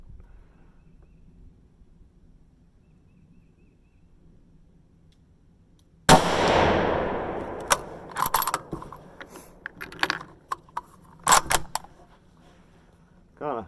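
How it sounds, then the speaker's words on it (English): Bolt of a Ruger American Predator rifle in 6.5 Grendel worked hard by hand after a quiet stretch, giving a burst of close metallic clacks and sliding rattles followed by several sharp clicks. "You really gotta work this bolt pretty hard. If you try to baby it, it doesn't work."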